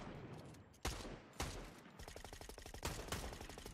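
Sniper rifle shots crack out in Fortnite, several sharp separate reports followed by a rapid burst of quicker gunfire, loud and close with reverberant tails.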